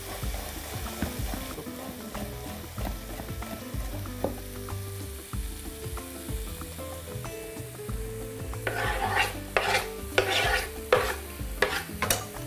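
Chopped garlic fries in a pan with stirring and sizzling, rising into stronger bursts of hiss near the end, over steady background music.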